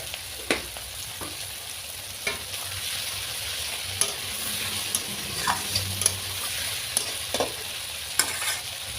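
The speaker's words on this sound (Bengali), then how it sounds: "এবার এর ভেতরে আমি কটা কালো জিরে ফোড়ন দেব।" Nigella seeds sizzle in hot oil with fried prawns in the pan, a steady crackling fry broken by occasional sharp pops and stirring clicks, with no voices.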